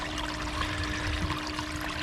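A bilge pump run through a speed controller at reduced power, used for gold prospecting, pushes a steady, continuous flow of splashing, gushing water with no break.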